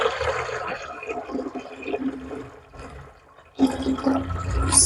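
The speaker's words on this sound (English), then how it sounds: "So let's add water." Water pours and splashes into a container of diluted garlic mixture for young poultry, a continuous gurgling stream that dips briefly before surging louder again.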